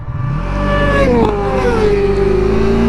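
Motorcycles blast past at full throttle near a petrol station, a loud close engine roar whose pitch sweeps downward as they go by, leaving a sustained drone.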